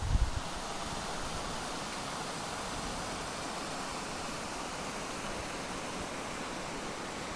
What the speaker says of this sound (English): That's a beautiful stream.